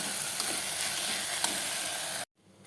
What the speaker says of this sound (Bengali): এই যে খিচুড়িটা ভাজা ভাজা হয়ে গেছে